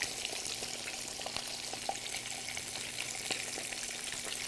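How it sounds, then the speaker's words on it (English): Pomfret fish pan-fries in hot oil over high heat in a home kitchen, giving a steady, quiet sizzle with scattered small pops and crackles throughout. "30 seconds to 1 minute you have to fry it on the side."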